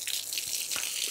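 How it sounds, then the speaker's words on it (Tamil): Water sprays steadily from a garden hose onto plants, a continuous hissing rush close by with a few soft splashes and no talk. "செடிக்கு தண்ணி பிடிக்கிறதாங்க எனக்கு."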